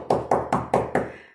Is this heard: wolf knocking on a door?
yes